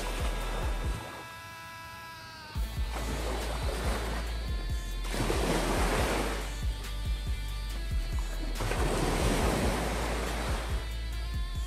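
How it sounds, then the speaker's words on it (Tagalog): Sea waves wash onto the shore at Villamar Beach Resort in repeated surging swells, loud and near, with a brief lull before the surf rises again. "At ito na ang baybayin dagat ng Villamar Beach Resort."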